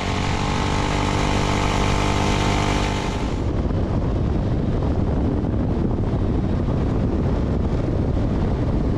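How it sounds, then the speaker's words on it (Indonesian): A QJ Motor Fort 250 motorcycle rides along a road in Bali, a loud continuous engine hum with steady tone at first, then heavy wind rush over the microphone drowns it out. "pertama kalinya kami mengaspal di Bali dengan Ford 250 dari QJ Motor ini"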